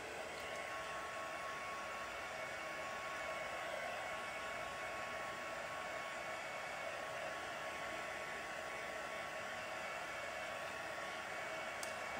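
A heat tool blows continuously to heat-set and dry a costume piece, a steady, loud whooshing roar that holds unchanged for about twelve seconds with no speech.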